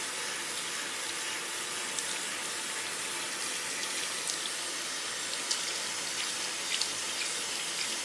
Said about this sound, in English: So now I'm gonna rinse out the perm lotion. This I do with medium hot water